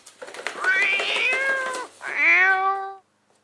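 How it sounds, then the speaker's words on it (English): A cat meows from inside a package, two drawn-out, fairly loud meows close by, the first long and wavering, the second shorter and rising, with no talk over them. "There's a cat inside."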